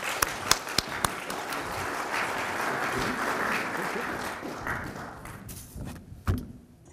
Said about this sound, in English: So please welcome Todd Cutler